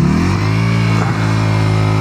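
A Yamaha Virago 125 bobber motorcycle idles close by with a loud, steady low engine rumble and one brief blip of throttle partway through, with no talking.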